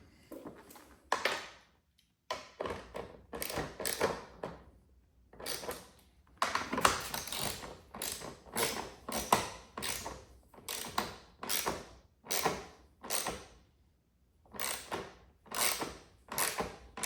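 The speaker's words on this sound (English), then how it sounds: "Now we're going to just tighten up all the fasteners together with the 8mm." Ratchet wrench clicking in quick repeated strokes as it tightens 8mm fasteners on the air filter box of a Jeep Wrangler JL, with short pauses between bursts, close by.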